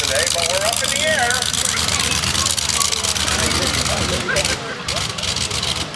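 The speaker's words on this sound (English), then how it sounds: "That is a 9-cylinder rotating engine." Nine-cylinder rotary engine of a 1913 Caudron aircraft runs at an air show with a loud, continuous, rough drone, slightly unsteady and dipping near the end, with people talking over it.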